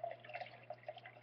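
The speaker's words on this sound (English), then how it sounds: "I pour about a cup of coconut water into my magic bullet cup" Coconut water poured into a Magic Bullet cup, a soft trickling stream with a few faint gurgles, quiet over a low steady hum.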